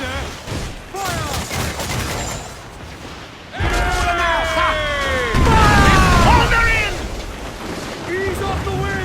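Naval cannon fire during a ship battle in Assassin's Creed Black Flag, with booming volleys and crackling bursts over ocean ambience, while crew voices shout throughout.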